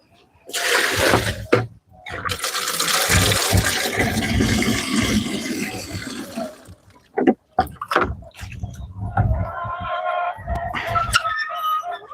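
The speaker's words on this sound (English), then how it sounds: "All right, we got some water in a bucket." Water gushing and splashing into a plastic bucket outdoors in bursts, loud and close, with brief pauses and birds chirping nearby toward the end.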